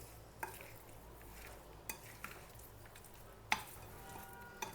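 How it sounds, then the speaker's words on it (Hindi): Garlic cloves stirred into hot spiced oil for homemade pickle, a soft wet stirring hiss with a faint sizzle and a few sharp clinks of a spoon against the pot, quiet and close, no talking. "लहसुन को डाल के मिक्स करेंगे।"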